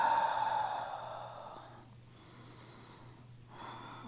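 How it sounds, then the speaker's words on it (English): A person holding a yoga pose with heels pressed down and hips up takes slow, deep breaths, a long, close exhale followed by softer, quieter breaths. "A few deep breaths."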